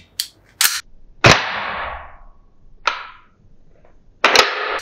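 Desert Eagle CO2 air pistol firing in several sharp, loud cracks spread across a few seconds, each with a brief hissing tail of escaping gas and one longer gas release.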